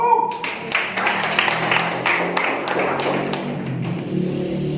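Audience clapping at a Hindu youth talk, a dense burst of hand claps close and loud, thinning toward the end with some murmuring voices underneath.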